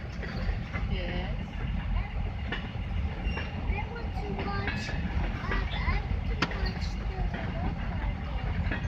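A long CSX cargo train rolls past nearby with a continuous low rumble, clattering wheels and metallic squeals.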